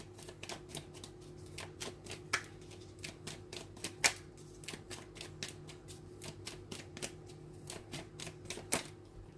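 Tarot cards being shuffled and flipped during a reading, giving a steady run of crisp card snaps and riffles at close range, with a faint low hum underneath and no talking.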